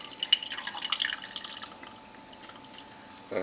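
White distilled vinegar pours into a bowl for homemade Arby's-style sauce, a short trickling splash up close that fades after about a second and a half into quiet.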